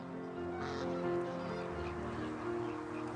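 Geese honk repeatedly across a wetland bird sanctuary in the Camargue, several calls overlapping at moderate distance over a steady outdoor background.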